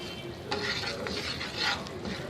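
Flour (maida) being roasted and stirred in a pan, soft scraping strokes of a utensil in bursts over a faint sizzle, close and quiet, with no talking.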